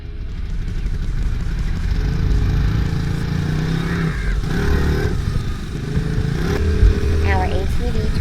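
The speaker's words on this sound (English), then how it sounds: "we're heading off on the side-by-side into the woods" A side-by-side ATV rumbles steadily into the woods with a continuous engine drone and occasional rattles, while voices talk over it.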